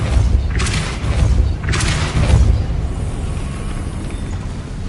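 Depulso spell blasts in the Hogwarts Legacy video game, two heavy, booming whooshes in quick succession followed by a low rumbling tail, loud and close.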